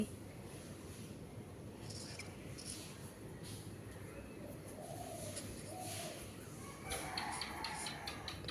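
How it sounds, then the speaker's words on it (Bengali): Quiet morning ambience with distant birds calling: soft dove coos, a rooster and chicken clucks, over a steady low background hum. "এই সময়টা খুব ভাল লাগে মুরগি ডাকে পাখি ডাকে"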